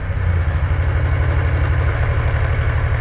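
A 2004 Ducati 1000 ST3 sport-touring motorcycle idles steadily on choke, a loud, close, continuous low throb with a regular pulsing beat and no talk.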